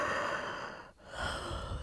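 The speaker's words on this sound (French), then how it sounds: "J'exagère mon bâillement." An exaggerated yawn during a morning yoga session comes as a long, breathy exhale with a brief pause at the bottom, then a drawn inhale, close and unaccompanied by speech.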